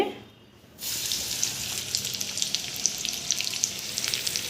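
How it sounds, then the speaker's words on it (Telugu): Stuffed bitter gourds hit hot oil after a quiet moment, bursting into a loud, continuous close-up sizzle with scattered crackles and pops that carries on steadily with no talking. "ఆయిల్ ఎక్కిన తర్వాత స్టఫ్ చేసి పెట్టుకున్న కాకరకాయలను యాడ్ చేసుకోవాలి"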